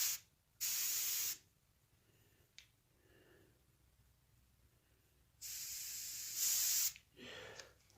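Paint sprays onto a coyote taxidermy mount around the eye and tear duct in several short, sharp hissing bursts close to the mic, with quiet gaps between them.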